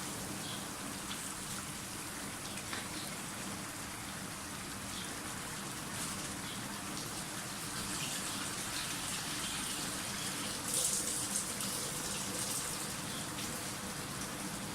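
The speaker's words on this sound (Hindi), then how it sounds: "मैं तकरीबन 1 प्याली पानी जो है इसमें शामिल कर रही हूँ।" A steady, soft gushing of water pours into a pot of mutton kofta curry gravy for about fifteen seconds, faint and continuous with no talk.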